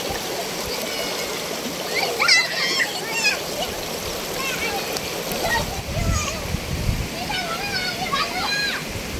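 Children splashing and playing in a village water pond in Pakistan: continuous watery splashes and trickling close by, with excited kids' voices and an adult calling out over the water.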